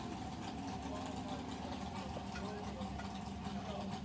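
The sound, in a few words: truck engine idling underneath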